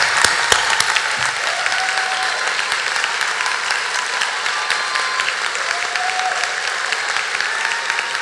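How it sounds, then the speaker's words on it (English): Audience applause at a fall college commencement ceremony for the College of Natural Sciences and Mathematics, honoring graduates' standing parents and relatives: a steady, dense wash of many hands clapping from a large crowd, sustained and even throughout with a few sharper nearby claps early on. "Give them an applause."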